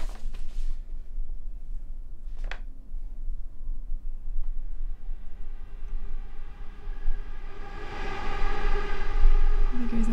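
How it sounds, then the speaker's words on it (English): A passing train gives a low steady rumble that swells into a loud sustained horn-like wail toward the end, with faint speech underneath early on. "There goes that train again."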